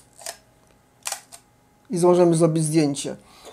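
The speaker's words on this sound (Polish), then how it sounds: "Następnie trochę cofamy rączkę i możemy zrobić zdjęcie." A Seagull 4A film camera gives two crisp mechanical clicks as its lever and shutter work, about a second apart, then a person starts talking.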